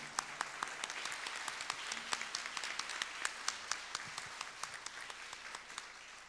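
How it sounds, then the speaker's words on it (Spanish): Audience applause at a book presentation: a thin, scattered round of individual claps with crisp separate hits, fairly quiet and steady throughout, no voices. "Al hermano también pido un fuerte aplauso por su presencia"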